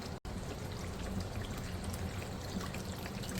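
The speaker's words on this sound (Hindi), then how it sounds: "इसको मैं आधा गिलास पहले डालती हूँ पानी।" Water is poured into a pot of curry made with pea khandvi: a steady, soft, continuous pour heard close and alone, with no talk.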